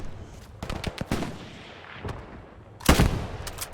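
Rifle gunfire rattles through a Hell Let Loose battle during an attack on Foy: scattered sharp cracks and distant reports, then a louder close burst of shots near the end.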